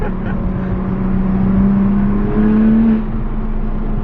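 Turbocharged 2020 Toyota Supra with a bigger turbo, accelerating hard in third gear with wheelspin on a test track, heard as a loud, steady engine drone from inside the car, pitch climbing slightly with no talk.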